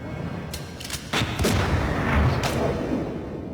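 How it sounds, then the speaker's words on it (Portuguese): Gunshots from a fight scene in The Matrix film, a few sharp cracks followed by a heavy booming blast with a long rumbling tail, loud and close, no talk. "ele leva um tiro"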